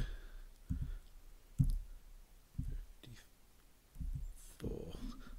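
A few soft, separate keyboard key clicks, spaced about a second apart, close by in a quiet room.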